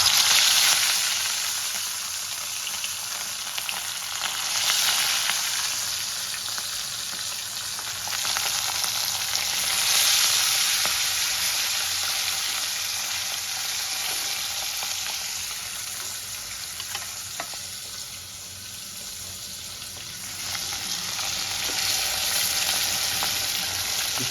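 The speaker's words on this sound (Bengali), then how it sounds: "এবার আমি মাছগুলো এক এক করে দিয়ে লাল লাল করে ভেজে নেব।" Pieces of rohu fish fry in hot oil, giving a loud, continuous crackling sizzle that swells and eases in waves over about twenty-four seconds, with no talking.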